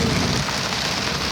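Heavy rain pours down hard during a lightning storm, a loud, dense, steady hiss of drops close to the microphone with no voices.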